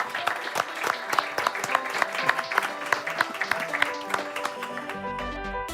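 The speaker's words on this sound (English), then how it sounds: "Give them a warm applause." Warm applause for podcast guests at the close of a European venture capital episode, steady dense clapping with some sharp peaks running the whole length, with a brief voice near the end.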